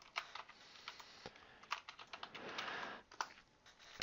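Typing on a computer keyboard: quick, uneven bursts of close, crisp key clicks with a few heavier strokes mixed in. The keys rattle steadily at a quiet level with no speech.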